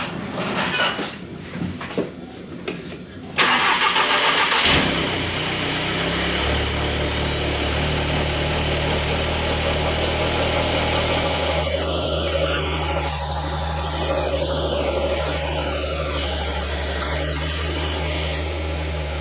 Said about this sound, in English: idle the car, and check for any sort of leaks